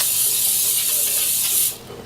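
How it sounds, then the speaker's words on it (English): Cooking spray hisses in one continuous burst for under two seconds as it coats a meatloaf pan, then cuts off abruptly. "you're just going to line your pan with the cooking spray"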